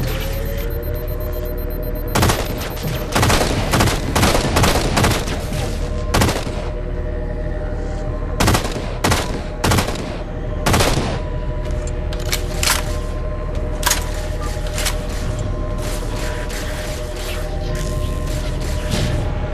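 Loud automatic weapon fire and heavy explosions on the gondola in Halo 4, repeated bursts and sharp cracks over a steady mechanical hum, with no one speaking.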